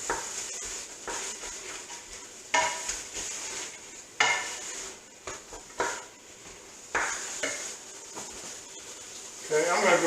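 Beef and vegetables sauté in a pot for unstuffed cabbage roll soup, with a soft sizzle under repeated scraping and knocking of a spoon against the pot, spaced stirring strokes close by.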